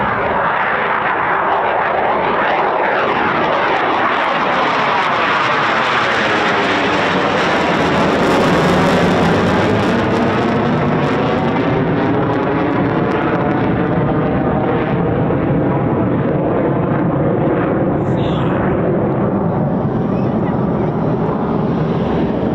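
Eurofighter Typhoon FGR4 jet at RAF Coningsby, a loud sustained engine roar that swells as it passes close overhead and then fades, with a descending whine and wind buffeting the microphone.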